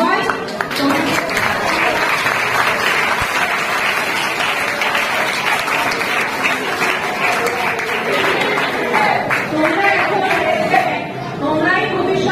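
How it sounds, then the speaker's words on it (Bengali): An audience of students applauds as they join an environmental zero-waste mission at a community event, sustained clapping mixed with crowd chatter and voices for the whole stretch. "তোমরা যে আজকে মিশনে যোগদান করলে, তার জন্য একটা খুব বড় করতালি তোমাদের জন্য প্রাপ্য"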